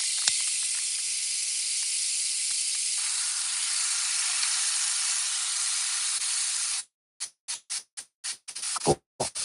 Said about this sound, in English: we're gonna throw this steak in there